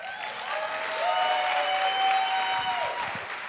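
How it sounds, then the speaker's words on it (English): An audience at a talk breaks into steady applause for a speaker, a dense wash of clapping that swells slightly in the middle and carries on without speech. "so please, round of applause"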